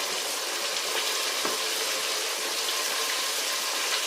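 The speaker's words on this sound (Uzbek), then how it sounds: "Вот так жарим курицу." Chicken pieces fry in a pan with a loud, dense, unbroken hiss of spitting oil and one brief knock near the middle.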